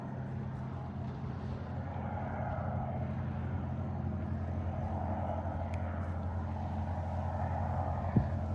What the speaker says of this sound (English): That boat is kind of loud.